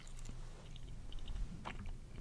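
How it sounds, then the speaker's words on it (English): Gum is chewed close to an ASMR microphone, soft wet smacks and small clicks at an uneven pace over a low steady background hum, with no talking. "I'm chewing gum today"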